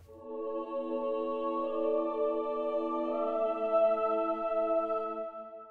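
A women's choir sample library, Haunted Choir, with a generous reverb, holds a soft, sustained chord of sung voices that swells slightly and stays steady and fairly quiet throughout.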